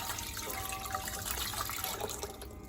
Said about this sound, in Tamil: இந்த தண்ணி ஆட் பண்ணிக்கலாம்.